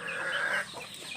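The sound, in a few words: Kadaknath rooster and chickens at a local poultry farm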